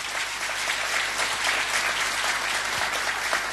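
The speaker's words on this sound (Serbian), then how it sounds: "Zamolit ću vas sve za jedan aplauz." An audience claps steadily and densely for the jury at the opening of an international small-stage and monodrama theatre festival, an even, sustained round of applause filling the hall.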